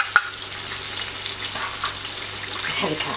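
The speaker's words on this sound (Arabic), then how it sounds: "نحركها مليح مع داك البصل" Chopped garlic and onion fry in a pan for a fish tajine, giving a steady close sizzle with soft stirring scrapes throughout and no talk.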